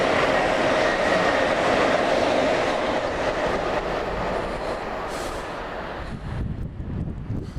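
A train rumbles past close by at a busy railway station on the Narborough to Nuneaton line, a loud steady roar with rattling wheels that fades into clattering and clunks near the end.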